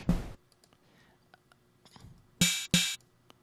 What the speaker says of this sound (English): Almost a hi-hat kind of sound there.